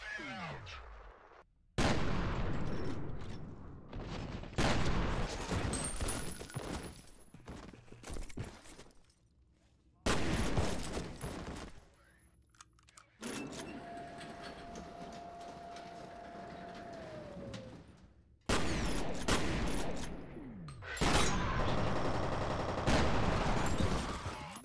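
Heavy shotgun blasts and combat noise from the first-person shooter F.E.A.R. Extraction Point, loud booming bursts in several separate stretches, with quieter gaps and a steady droning tone between them.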